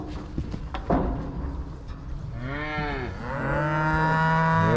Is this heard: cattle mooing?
yes